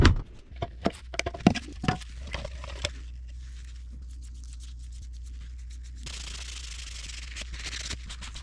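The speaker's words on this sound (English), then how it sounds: "I'm going to sand and stain them" Wooden blocks for a boat's towel rack being sanded by hand, several sharp scratchy strokes at first, then a steadier faint rubbing hiss that grows slightly brighter, close and without speech.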